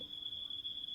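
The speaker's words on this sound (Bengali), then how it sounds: "ঝিঝি পোকার ডাক" Crickets chirping at night in a jungle clearing, a faint, continuous high-pitched trill holding steady throughout with no voices.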